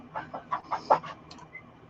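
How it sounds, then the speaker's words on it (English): Hens cluck in a short series of separate calls, several nearby birds from a flock of about a hundred on a small farm, loud against a quiet background with no talk. "There are probably about 100 chickens here"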